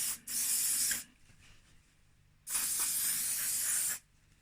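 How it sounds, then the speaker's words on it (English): Two long hissing bursts of spray oil onto the carriage of a Brother KH881 knitting machine, each lasting over a second with a quiet pause between, close and loud. "That's my spray oil."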